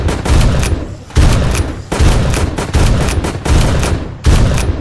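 Rapid bursts of gunfire in the video game Zombie Rush, loud and close, coming in five or six clustered volleys separated by short gaps, with no voice over them.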